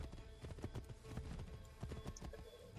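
Horse hooves clip-clop in a quick, steady rhythm across forest ground in Assassin's Creed III, faint and continuous with no talk over them.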